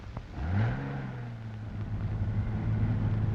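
A 1937 Lincoln Zephyr pulls away and accelerates, its engine note climbing steadily in pitch and settling into a smooth, sustained drone, heard from inside the car on an old recording.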